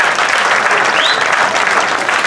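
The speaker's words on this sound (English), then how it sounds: "And let's keep the applause going." Steady, dense applause from a large audience at a Philippine community gathering honoring village residents, loud and continuous throughout with no pauses.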